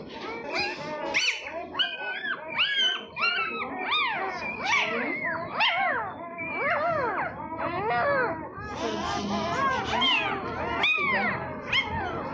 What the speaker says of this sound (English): A new litter of pups, 7 of them, 3 or 4 too many.